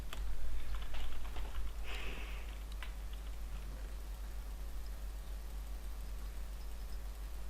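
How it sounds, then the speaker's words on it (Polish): Scattered computer keyboard and mouse clicks while playing Minecraft SkyWars, a handful of quick taps clustered early, then sparse faint clicks over a low steady hum, with no talk. "Gdyby było słuchać moją myszkę albo klawiaturę, to was przepraszam."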